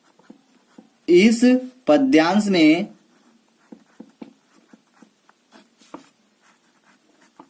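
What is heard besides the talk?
pen writing answer on paper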